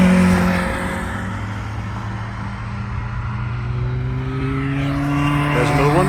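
An Atom race car driving past on a track-day circuit, its engine a steady loud drone that holds and then rises in pitch as it accelerates by, with other car noise underneath.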